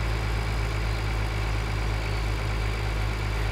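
A tractor engine in Farming Simulator 2013 hums at a steady, low idle-like drone, loud and unbroken throughout with no voices.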